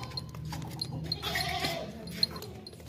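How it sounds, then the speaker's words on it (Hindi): A Beetal goat at a livestock sale, bleating faintly once or twice amid quiet background noise. "ये बीतल बकरी चेक करें भाई, बहुत ही प्यारी खूबसूरत बकरी है"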